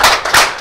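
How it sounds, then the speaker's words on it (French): Applause from a studio audience closing a French public-affairs television debate show, a loud burst of dense clapping with brief swells across a short moment, no voices over it. "Sous vos applaudissements, on termine cette émission."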